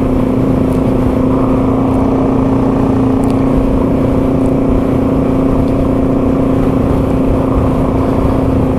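A Yamaha TW200 dual-sport motorcycle rides across the frozen Lake Superior ice road, its single-cylinder engine droning loud and steady at constant speed, mixed with heavy wind buffeting.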